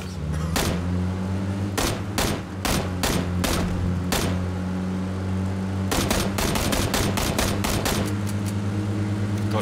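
Gunfire in the PUBG video game: loud, sharp single shots and rapid bursts of automatic fire, clustering more densely toward the end, over a steady low vehicle engine hum.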